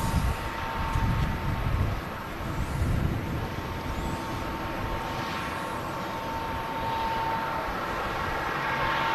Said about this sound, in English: Also got a Ryanair beginning its taxi out from T3 there.